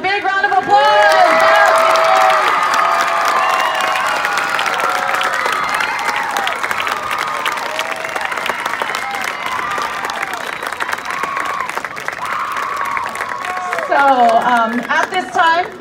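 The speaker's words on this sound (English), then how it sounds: "let's give them a big round of applause" An audience applauds senior band members at a school band concert: sustained, loud crowd clapping with scattered cheers and whoops, swelling again near the end.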